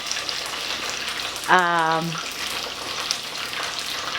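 Korean fried chicken sizzling in hot oil, a constant, close frying hiss with a brief voiced sound in the middle.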